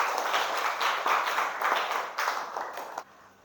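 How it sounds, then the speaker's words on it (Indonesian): Classroom applause for a fifth-grade student, a dense patter of many hands clapping steadily and close by, then cutting off abruptly near the end. "Tepuk tangan untuk Farel."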